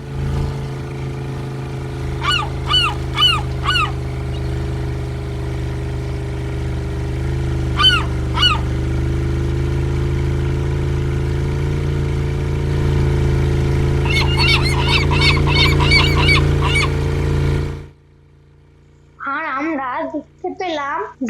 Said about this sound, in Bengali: আমাদেরকে ঘিরে ধরলো পাখির দল